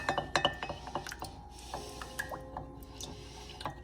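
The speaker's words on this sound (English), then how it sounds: "It says stir until fully blended." A utensil stirs Dollar Tree brownie batter in a bowl, giving close clinks and scrapes against the bowl with soft squishy mixing in between and no talking.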